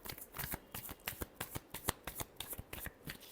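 Tarot cards being shuffled again and again for a Leo weekly reading, giving quick, crisp riffling bursts in a steady rhythm, close and clear with no talking.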